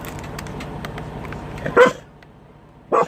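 A dog barks twice at her own reflection in a window, loud and close, the barks roughly a second apart, following a stretch of low, cluttered background noise.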